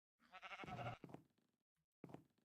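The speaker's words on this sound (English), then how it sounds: "Purple sheep is right here." Minecraft sheep bleat close up in a few wavering, nasal cries, one long bleat then shorter ones after a pause, with no talking.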